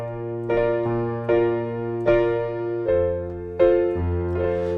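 Piano chords from a song, played with an added eighth-note left-hand rhythm, sounding as a steady series of sustained, ringing harmonies that change every beat or so, close and clear with no talking.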